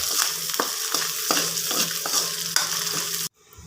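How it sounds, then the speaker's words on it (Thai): Fish scraps fry crisp in hot oil with a steady, loud sizzle, broken by regular scraping stirs about every half second before cutting off abruptly near the end. "ทอดทอดให้กรอบเลยนะ มันก็จะอร่อย"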